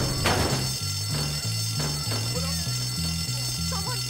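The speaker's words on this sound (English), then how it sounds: "Someone pulled the fire alarm." School fire alarm ringing in the Bully video game: a steady two-tone electronic ringing pulses in even rhythm throughout, with faint game voices and background noise beneath it.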